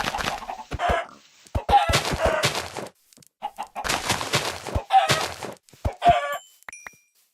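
Minecraft chickens clucking in short bursts, several close, clear clucks spread across the stretch with brief quiet gaps, no talking over them.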